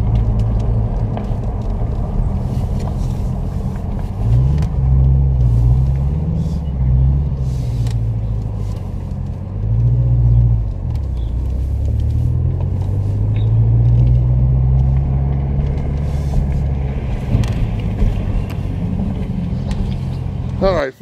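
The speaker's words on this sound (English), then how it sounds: "just had a nice ride in the Z06 Vet 2015" Riding inside a 2015 Chevrolet Corvette C7 Z06, the engine gives a deep, loud rumble that rises and falls with throttle changes, while people talk over it.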